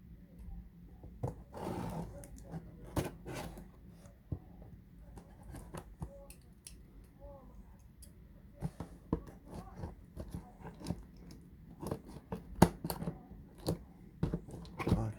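Kitchen scissors snip at a plastic package in a quiet room, giving repeated close, uneven clicks and crinkles with soft rustling of the wrapping between cuts.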